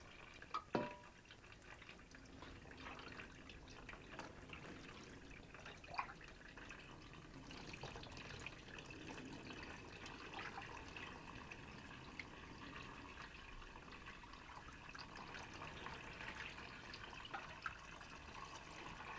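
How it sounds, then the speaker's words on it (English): Milk is poured over Murtis during an anointing ritual, making a faint, distant trickle with a few scattered drips against a quiet background. "he's anointing all of the Murtis with an auspicious milk"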